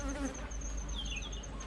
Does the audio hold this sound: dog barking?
no